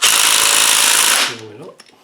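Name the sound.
power tool removing a bolt from an LT230 transfer box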